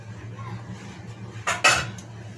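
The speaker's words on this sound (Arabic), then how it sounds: "دي الفراخ بتاعتنا نقلبها كويس" Chicken for a negresco pasta bake is stirred in a metal pot, with a soft scraping undertone and then a couple of sharp utensil clanks against the pot near the end.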